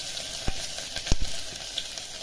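Onion fries in a little oil inside a pressure cooker, an even close sizzle with a couple of soft thuds and pops from stirring.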